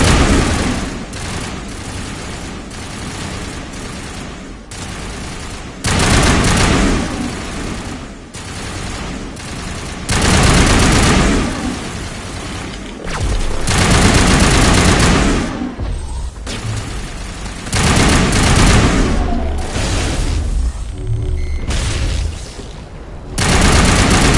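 Coordinated crossfire from Geth enemies and long-range turrets in a Mass Effect video game: loud, sustained rapid gunfire and booming impacts that swell and fade in waves for the whole stretch.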